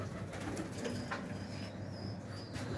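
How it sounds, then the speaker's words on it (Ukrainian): Young bred pigeons cooing softly in a loft, a low steady murmur of coos with faint higher chirps over it, close by and continuous with no talking. "Це мої виводні голубочки."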